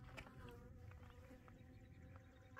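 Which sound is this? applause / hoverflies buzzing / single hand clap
hoverflies buzzing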